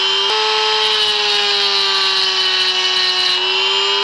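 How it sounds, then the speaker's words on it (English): Small Dremel rotary tool whines steadily at high speed while cutting a pin on a metal casting moulding box, one continuous close run with a brief dip near the start and a slight pitch drop toward the end. "I'll use a little Dremel."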